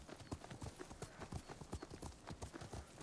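Horse hooves clip-clopping in the Ghost of Tsushima video game, a quick steady trotting rhythm of soft thuds that continues throughout, faint and with no voices.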